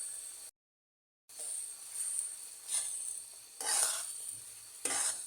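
Cut green chillies sizzling in a cooking pan with potatoes and moong dal, a soft continuous hiss broken by several scraping stirs of a utensil, close and fairly quiet.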